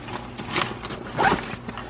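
A zipper on a Swiss Gear everyday-carry backpack is pulled open in two close, scratchy bursts, with a quieter drag between them and no talking.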